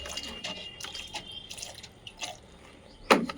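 Plain water is poured from a container into a large pot holding a bougainvillea, making soft trickling and dripping sounds with a louder splash near the end, fairly close and without voices.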